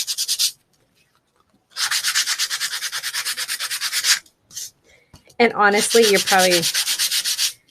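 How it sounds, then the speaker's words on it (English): Light sanding of paper sheets for a junk journal pouch insert, heard as three bursts of steady back-and-forth rubbing strokes, close and fairly loud, with a short spoken remark at the end. "I'm just going to do a really light sanding just to give it less shine"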